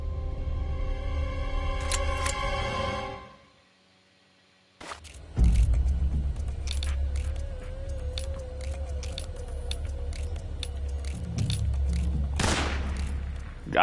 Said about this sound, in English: A good old West shooting.